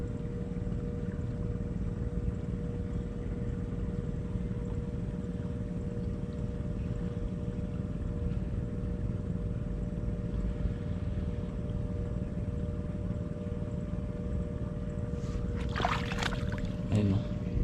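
Small Robin engine driving a water pump for irrigating eggplant and chili fields, a steady mid-distance motor hum that runs without a break, with a brief burst of other noise near the end.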